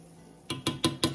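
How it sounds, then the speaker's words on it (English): Instant rice is stirred in a pot of water coming to a boil, giving four quick metallic scrapes and taps in an even rhythm after a brief quiet hiss. "Stir it up."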